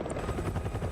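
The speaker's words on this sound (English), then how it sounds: "Now just blow up some helicopters." A helicopter in the video game Resident Evil 6 gives a steady, loud rotor drone with a rapid low chopping pulse that fills the whole short moment.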